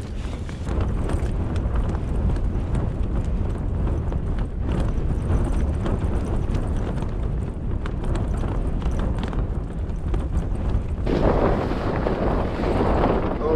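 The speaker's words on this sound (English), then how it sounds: "that wind's turned up a notch again. It's been rattling this side of the tent" Strong blizzard wind batters a tent at 3750 ft in about 25 mph gusts and minus six degrees, a loud, continuous roar with rattling fabric buffeting the side of the tent, swelling harder near the end.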